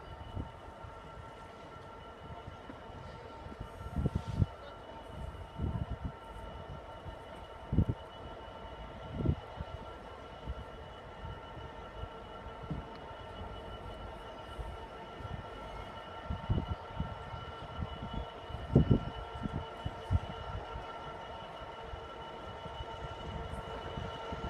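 A freight train rolls through Peterborough station with a continuous low rumble and repeated wheel clunks over the rail joints, plus faint squeals, moderately distant and steady throughout.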